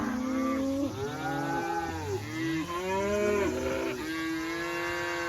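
A dense cattle herd grazing near a pond dam fills the air with overlapping moos and drawn-out bawls, several cows calling at once, loud and continuous, with no voices.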